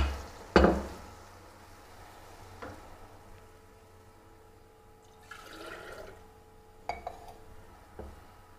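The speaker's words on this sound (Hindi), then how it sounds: "ये 1 गिलास पानी और डाल रही हूँ" Water is poured from a glass into a pot of soaked rice for black gram pulao, with a sharp metallic clink at the start, a short splashing pour, and a few light clinks, all fairly quiet.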